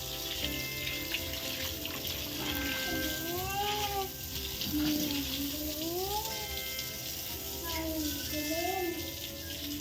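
Water splashes and runs steadily while the floor and stairs of a village home are washed down, a continuous wash of sound with voices talking over it throughout.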